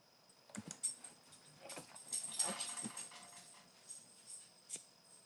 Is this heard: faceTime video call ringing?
no